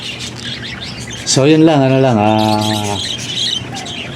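Pet parakeets chirping softly in the background while someone speaks over them, their thin tweets scattered around his voice.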